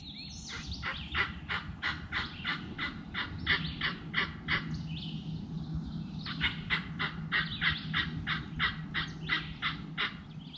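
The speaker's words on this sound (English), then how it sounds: "as the bird got closer gobbling" A wild turkey gobbles repeatedly in two long rattling bursts, with a steady low hum and rustling underneath; fairly close and clear.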